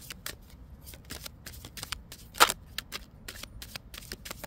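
Cards are handled and shuffled close by, then tucked under a bag so they won't blow away. Quick crisp flicks and riffles come in bursts, with one louder rustle midway.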